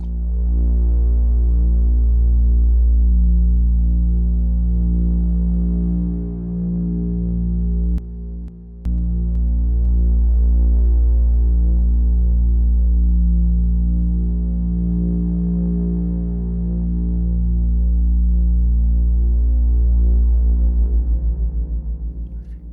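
A deep, sustained synth bass drone with a reverberant wash, throbbing slowly and steadily, with one brief dropout partway through.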